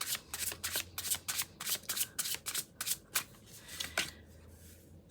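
A tarot deck is shuffled and cards are drawn. Quick, crisp riffling flutters repeat in a steady rhythm at close range, then give way to a softer slide and flick. No one speaks.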